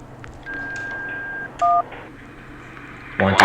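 DTMF keypad tones dial a Honeywell Vista 20P alarm panel to enable two-way talk mode: a long tone, then a short higher tone, over a quiet hiss that ends in a loud burst.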